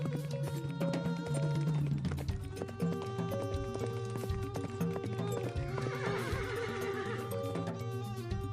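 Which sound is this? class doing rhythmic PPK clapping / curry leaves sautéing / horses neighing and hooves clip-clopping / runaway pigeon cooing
horses neighing and hooves clip-clopping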